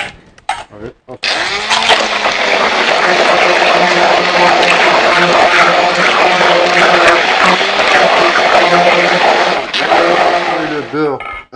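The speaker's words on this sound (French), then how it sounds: "Le beurre, notre crème à 50 degrés et avec à l'aide d'un mixeur." An electric blender runs steadily for about ten seconds, whirring loud and close as it blends cold butter into a lemon cream heated to 50 degrees, starting and stopping abruptly.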